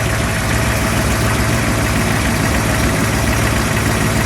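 The engine of a 1932 Ford four-door custom restomod idles nearby with a steady, rumbling exhaust note and a constant low vibration, with no talk over it.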